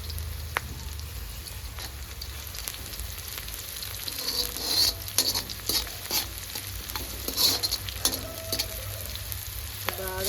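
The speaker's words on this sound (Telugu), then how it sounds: "బాగా బ్రౌన్ కలర్ వచ్చే వరకు ఫ్రై చేసుకోవాలి" Curry leaves and green chillies fry in a hot pan with a steady sizzle, stirred by a spoon that scrapes and clatters in bursts near the middle and end, with no talking.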